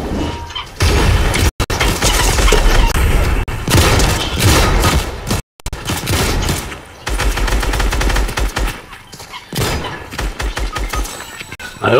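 Dense rapid gunfire from an online shooter video game, loud sustained automatic bursts and booms almost without pause, with brief gaps and a few sharp impacts, no speech heard over it.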